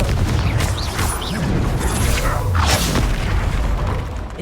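Confringo fire spell blast in the Hogwarts Legacy video game, a dense booming explosion with crackling debris and whooshes sustained loudly across the whole span, no talk over it.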